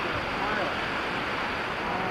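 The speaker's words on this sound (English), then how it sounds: "There they are, the waterfalls." Vernal Falls gives a steady, dense rushing roar of falling water, heard from a distance and filling the whole stretch without a break.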